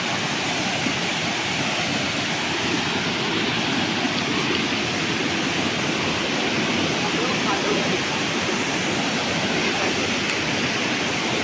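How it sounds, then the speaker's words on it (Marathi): Rushing river water in the Konkan region near a waterfall, a steady, loud, broadband roar that carries on without a break for the whole stretch. "आपण नदीवरती आलोय"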